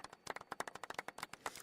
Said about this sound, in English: More golf claps for Ollie.